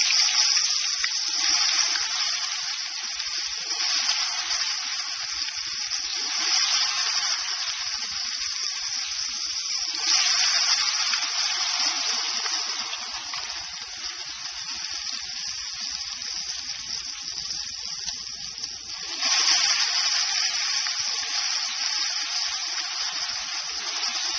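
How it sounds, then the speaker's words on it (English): Tempura batter is poured slowly into hot oil for crunchy tempura flakes, a continuous bright sizzling hiss lasting over twenty seconds that swells and eases in waves. "just slowly pour it into the oil, not too fast"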